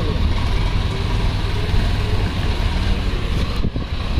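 A loaded tractor hauling about 19 tons drives past with a loud, steady low engine rumble throughout, easing slightly near the end.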